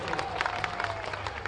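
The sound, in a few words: crowd applauding loudly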